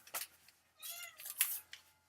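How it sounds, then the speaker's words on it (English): A cat meows a few times, short and fairly close, with brief pauses between calls in a quiet setting. "I hear Audrey meowing too"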